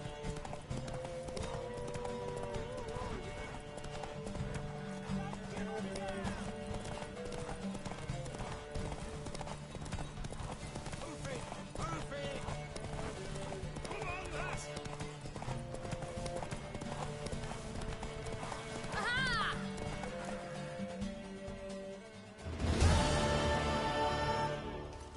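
Rhythmic clip-clop of a horse galloping continuously in The Witcher 3 over a music backdrop, with a brief whinny and a louder burst near the end.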